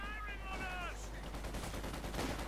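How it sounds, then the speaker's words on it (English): Rapid bursts of Sten gun fire from commandos in the Company of Heroes 2 battle game crackle under an excited commentator's voice, with overlapping shots and game effects. "the mighty commandos and their mighty Sten guns"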